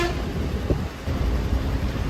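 A bus horn blares among the loud, steady rumble of the bus on the road between Cuddalore and Pondicherry, with the honk fairly brief and partly buried in engine and road noise.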